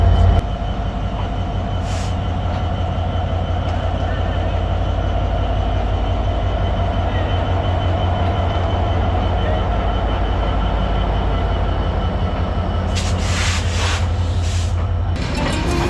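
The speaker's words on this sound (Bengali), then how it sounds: "সিরাজগঞ্জ উল্লাপাড়া থেকে ট্রেন ছেড়ে যাচ্ছে ঢাকার উদ্দেশ্যে।" A train pulls out of Ullapara railway station in Sirajganj, headed for Dhaka, with a loud, continuous rumble and rhythmic wheel clatter close by and a few brief squeals near the end.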